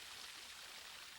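Splashing water by a pool at a Southern-style showhouse, heard as a steady, even wash of rushing water, alone with no voices, like a fountain.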